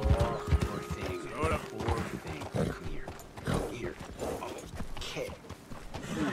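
Horse hooves clip-clop in an uneven rhythm in Red Dead Redemption 2 while people talk excitedly over them, the game sounds and voices mixed together.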